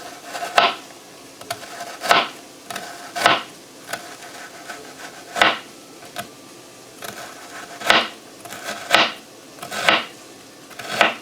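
A knife cuts through leftover canned Spam in a skillet, giving repeated scraping, rasping strokes at a steady rhythm, close and fairly loud, with brief quiet pauses between cuts.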